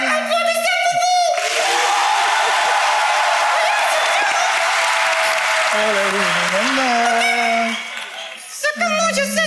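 A studio audience at France Got Talent breaks into loud, sustained applause that swells and lasts several seconds, with a voice speaking just before and just after.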